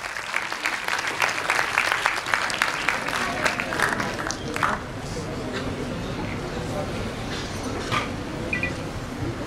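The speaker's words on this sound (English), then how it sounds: "A big round of applause for her." Audience applause at a school Independence Day celebration, broad steady clapping from a crowd that is loudest in the first half, then eases into a lower continuous patter, with no talk over it.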